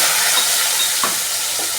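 Onions fry in hot oil in a pan, a loud continuous sizzle close by, with a brief stirring clink near the middle and no voices.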